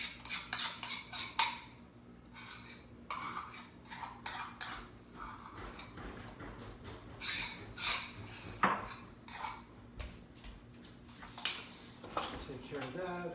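A spoon folding ingredients into a tamale mixture in a bowl, giving irregular clinks and scrapes against the dish with a person talking over them.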